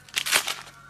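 Packaging crinkles briefly and close as a gift is unwrapped, a short burst of papery rustling.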